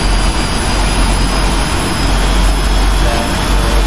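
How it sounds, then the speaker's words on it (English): Airliner jet engines spool up in a flight simulator at Minneapolis airport: a loud, steady broadband roar with a thin high whine holding through, no voices. "We'll go over and see the engine start."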